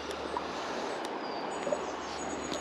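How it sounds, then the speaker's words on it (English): Faint birdsong drifts from a distance on the bank of the River Ayr in May, a few thin, high chirps scattered over the steady rush of flowing water. "You can hear the birds singing."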